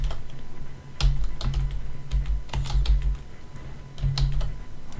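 Computer keyboard typing in short uneven bursts of clicking keystrokes, close and fairly clear over a low steady hum, with no voices.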